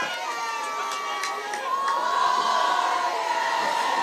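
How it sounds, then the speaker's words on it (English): A high school football crowd at a SSFHS versus Woodside game cheers and shouts continuously from a distance, the roar swelling louder partway through. "As the crowd has erupted and a rambunctious cheer of warriors."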